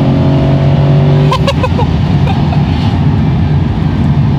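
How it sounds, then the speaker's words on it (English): A 2020 Chevrolet Corvette C8's naturally aspirated V8 in track mode, heard from inside the cabin as a loud, steady engine drone that holds its pitch throughout, with no talking. "there's nothing better than an NA V8, great sound, linear power."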